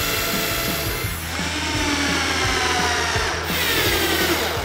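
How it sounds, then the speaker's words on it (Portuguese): Power drill boring into and screwing down the wooden top of a DIY tool cart, a loud continuous whine with motor pitch sweeps and a short dip partway through, close up and without talk. "Vamos furar e parafusar."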